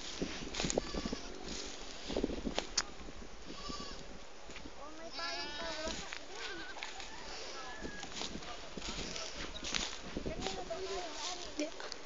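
Goats bleat repeatedly at close range on a farm, their wavering calls mixing with steady talk from people nearby over constant outdoor background noise.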